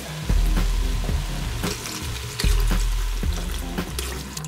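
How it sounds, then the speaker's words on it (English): Broth poured into a hot pot of spicy Korean-Chinese seafood soup (jjampong), a loud continuous splashing rush with sizzling and clatter close by. "it's time to add the broth."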